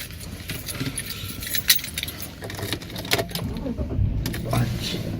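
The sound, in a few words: keys jangling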